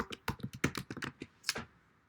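An address being typed on a computer keyboard, a short run of crisp close keystrokes in an uneven rhythm, fairly quiet, no talking.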